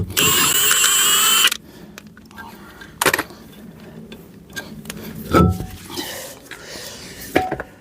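A ratchet spins off the wheel nuts of a Trabant. A loud burst of rapid clicking opens the clip, and sharper metallic clicks and clunks follow at intervals.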